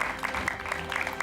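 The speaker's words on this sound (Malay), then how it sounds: "beri tepukan untuk Fatin" Brief burst of audience applause at a stage competition final, a short spatter of clapping from a moderate crowd.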